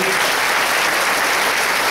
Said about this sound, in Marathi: तुम्ही एकदा टाळ्या वाजवा